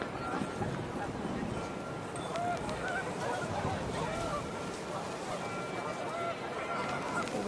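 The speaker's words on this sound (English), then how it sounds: "The wind picked up and panicked geese appeared and quickly went." In the video game What Remains of Edith Finch, a flock of panicked geese honks in a dense, steady wash of outdoor noise while a voice talks over them.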